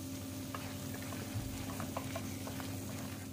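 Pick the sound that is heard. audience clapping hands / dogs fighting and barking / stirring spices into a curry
stirring spices into a curry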